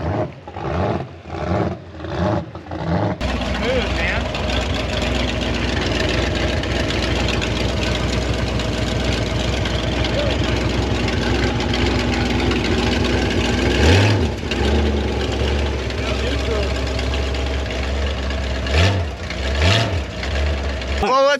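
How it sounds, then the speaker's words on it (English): A rebuilt jet boat engine starts after a few sputtering cranks, then settles into a steady, rumbling idle that runs on loudly and close. "we're gonna fire the boat up, make sure it runs and idles on its own,"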